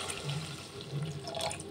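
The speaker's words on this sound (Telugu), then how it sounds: "ఇప్పుడు వాటర్ వేసుకోవాలండి." Water pours steadily into a pan of cooking upma, a continuous close splashing rush that holds at an even level throughout.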